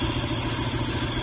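A lowered Fiat Palio's engine idling roughly and shaking, a steady close-up low rumble with faint mechanical clatter, no talk over it.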